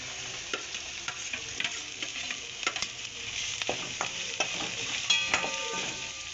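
Onion frying in a pan for damalu, a steady broadband sizzle with regular scraping knocks of a spoon stirring, close and fairly loud, no voices.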